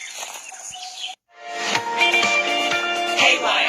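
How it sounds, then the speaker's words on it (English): Bush desert birds chirp and call busily near Alice Springs in the Northern Territory, the bright tweets overlapping after a brief gap, with no talk. "bush desert birds are making lots of noise"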